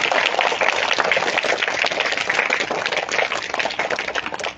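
Children clapping together in a classroom for their teacher Kusum, a dense, sustained burst of many hands lasting several seconds, loud and close without talk.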